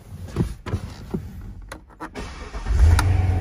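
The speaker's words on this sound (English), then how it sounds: "Fires right up, sounds great, got a nice little chug to it." A 2018 Chevrolet Corvette coupe with an 8-speed automatic is started from the driver's seat: a few clicks and whirs, then the engine catches and settles into a loud, low, chugging idle that builds toward the end.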